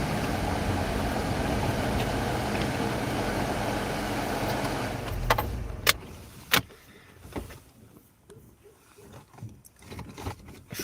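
A car rolls along at a moderate pace, its steady road and engine rumble filling the first half before dropping away, leaving quieter cabin clicks, knocks and rustles close by.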